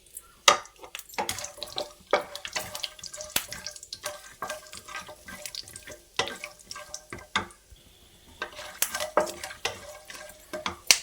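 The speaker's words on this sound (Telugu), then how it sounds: "ఒక టేబుల్ స్పూన్ నర నూనె వేసుకొని ఒక స్పూన్ జీలకర్ర ఒక స్పూన్ ఆవాలు రెండు టేబుల్ స్పూన్ పల్లీలు వేసుకొని ఫ్రై చేసి" Cumin, mustard seeds and peanuts fry in oil, with crackling sizzle broken by sharp metallic spoon scrapes and clinks against the pan, close and fairly loud throughout.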